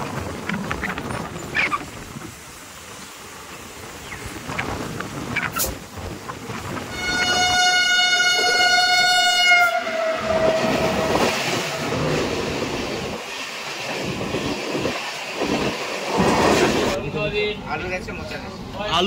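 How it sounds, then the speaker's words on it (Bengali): A passenger train stands at Kolaghat station, with a long, loud horn blast in the middle over rumbling rail noise and busy platform clatter, while voices chatter around throughout. "হাওড়া থেকে 54 কিলোমিটারের জার্নি সম্পন্ন করে আমাদের ট্রেন এসে পৌঁছেছে কোলাঘাট"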